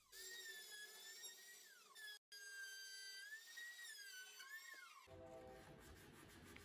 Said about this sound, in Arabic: وهنعملها على كذا مرة بالراوتر بالشكل ده